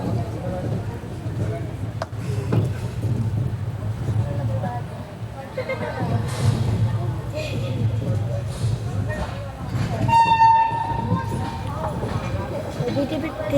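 Mumbai–Amravati Superfast Express running along the track, a steady low rumble with rhythmic clattering of wheels over rail joints and occasional brief squeals and knocks, heard from inside the coach.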